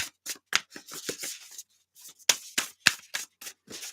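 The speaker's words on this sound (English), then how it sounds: "Let's shuffle it up here." Deck of reading cards being shuffled by hand, a run of quick crisp riffling bursts and flicks at close range, with no talking.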